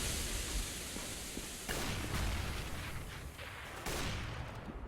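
Gunfire in CS:GO, a few distant, muffled shots and bursts spaced several seconds apart over quiet game ambience.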